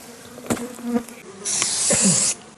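Mosquitoes buzz close by in hot summer weather outdoors, with brief whining passes early on and then a louder, sustained drone for about a second before it fades, with no speech.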